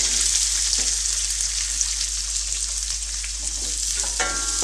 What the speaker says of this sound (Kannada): ಈಗ ಈರುಳ್ಳಿ ಹಾಕಿದ್ಮೇಲೆ ಮತ್ತೆ ಚೆನ್ನಾಗಿ ಫ್ರೈ ಮಾಡ್ಕೋಬೇಕು